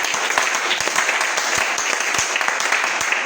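A church congregation applauds loudly and continuously, a thick wash of clapping with some individual claps standing out in a loose rhythm.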